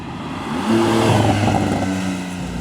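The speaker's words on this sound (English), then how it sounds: "when you're downshifting, you gotta blip the throttle just to get the engine to match the revs" A Porsche 911 GTS engine gives a quick automatic rev-matching throttle blip on a downshift, revs jumping sharply then easing back down within a couple of seconds, heard up close with no talking.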